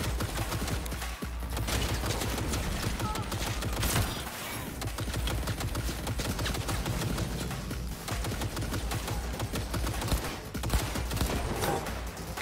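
Turret gunfire in Cyberpunk 2077, a steady rapid rattle of automatic shots running throughout at moderate volume, with occasional sharper impacts and no talking.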